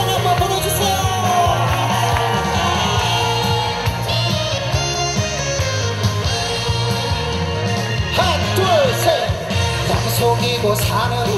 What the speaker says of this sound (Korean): 함성 한번 불러주세요